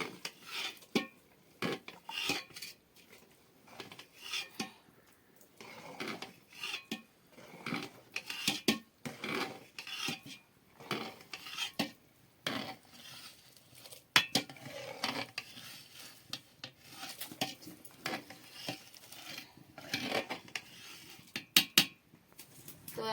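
Khichdi with fried carrot and tomato is stirred in a pot, giving quiet, irregular scrapes and clinks of a spoon against metal that repeat over a long stretch.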